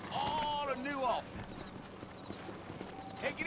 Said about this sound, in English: You ain't gonna find sturdier horses than these in all of New Albany.